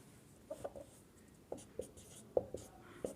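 Chalk or marker strokes on a board during an English grammar lesson, a handful of short, sharp taps and scrapes spaced irregularly, fairly close and quiet, with no talking.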